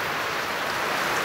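Steady afternoon rain in South Cotabato, Mindanao, Philippines, a dense, loud, even hiss of drops on surfaces with no pauses or voices.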